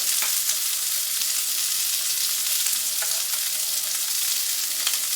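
Steady, close sizzling of sausage frying in a pan, a continuous crackling hiss with occasional small pops and no talking.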